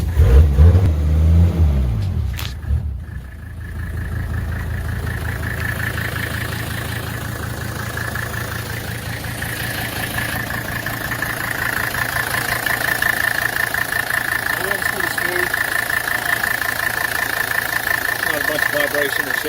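A Mercedes OM617 turbo diesel swapped into a Jeep TJ Wrangler cranks over and settles into a steady, knocking idle, then revs gently through the exhaust with a continuous near rumble and a faint high whine above it.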